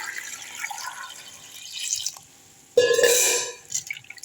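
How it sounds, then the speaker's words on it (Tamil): Water drips and is then poured over salted pineapple pieces in a kitchen to rinse them, faint trickling followed by a louder, splashy gush that tapers off. "தண்ணி ஊற்றி நல்லா கழுவிடலாம்."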